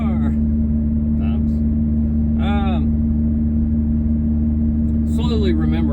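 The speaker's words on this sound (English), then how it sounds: "We are cruising right along in what could be your new car." A used car cruising along, its engine and road noise a loud steady drone inside the cabin, with people speaking over it.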